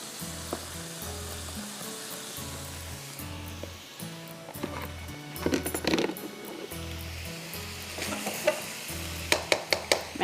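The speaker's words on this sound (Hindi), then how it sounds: "इसको मैं अच्छी तरह से अब मिक्स कर रही हूँ" Cooked rice noodles tossed with soy sauce and sugar in a hot pan: a steady low sizzle under repeated rhythmic scraping and stirring strokes, with sharper clinks of the utensil against the pan near the end.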